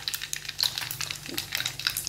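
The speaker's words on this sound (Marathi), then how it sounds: "मोहरी तडतड वाजायला लागलेली आहे" Mustard seeds crackling in hot oil while tempering for a Maharashtrian raita, heard as quick, dense little pops and a steady frying hiss, close by and with no one talking.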